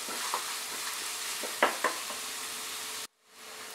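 Ginger and garlic fry in a pan with a continuous close sizzle, a few stirring scrapes and knocks near the middle, then the sound cuts out abruptly before the sizzle slowly returns.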